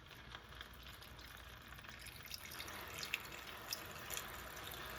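Hot water poured steadily into a clay pot holding an oven-baked quail and barley dish seasoned with garlic, a continuous close trickling splash with a few brighter drips, no talking.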